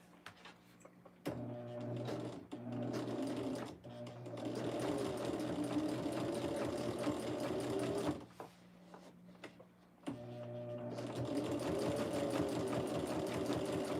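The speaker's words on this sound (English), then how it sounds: "And then we'll take it to our machine and stitch a 1/4 inch." A sewing machine stitches a quarter-inch seam on fabric for a zippy strippy bag, running in long steady whirring bursts with brief pauses and stops between them, close up and with no talking.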